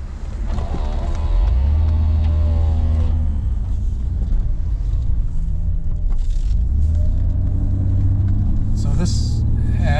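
A 1986 Nissan 300ZX engine hums and rises on a test drive, a loud close rumble that builds in pitch, eases off, then climbs again, with a voice talking over it.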